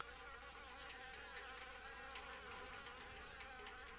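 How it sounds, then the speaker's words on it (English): Wasps in the horror adventure game Harvester give a continuous, even insect buzz, faint and steady with no talk over it. "Well, there's wasps. I guess those are wasps."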